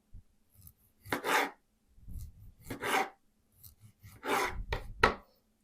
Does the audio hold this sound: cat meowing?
no